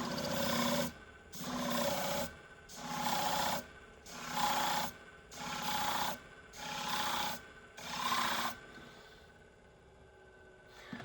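A file or sharpening stone rasps along shear blades to remove nicks, seven even strokes in a steady rhythm, close and fairly quiet, ending in a brief pause.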